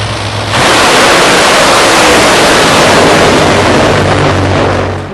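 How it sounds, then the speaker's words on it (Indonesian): An NHRA dragster engine roars in a loud, continuous blast of broadband noise that swells up after a brief lead-in and holds at full power for several seconds. "NHRA Dragsters."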